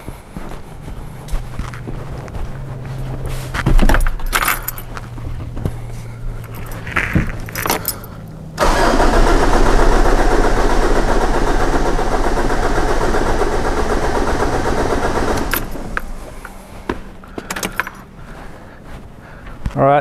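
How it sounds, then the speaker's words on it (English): Ford Ranger 3.0 diesel engine cranking over with the injectors removed for a compression test, a loud, steady starter-driven churn lasting several seconds, with clinks and handling noises before and after. "Now we're just going to crank this engine and see what sort of compression we get."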